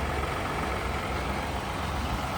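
An Audi's engine runs at a steady idle, giving a low, even rumble with no revving or breaks, close by and with no talk over it.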